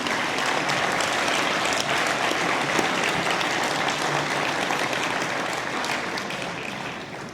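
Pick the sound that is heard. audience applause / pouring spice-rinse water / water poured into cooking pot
audience applause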